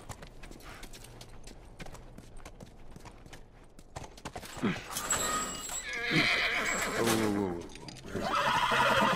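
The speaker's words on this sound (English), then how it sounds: "Whoa. Sounds like riders." Horses with riders approaching in The Last of Us, with whinnies and neighing plus clip-clop hooves growing louder over the final seconds, amid game ambience and some talk.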